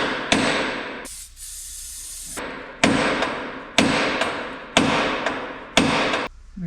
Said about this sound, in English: So we're cutting the U-bolts because they won't come undone.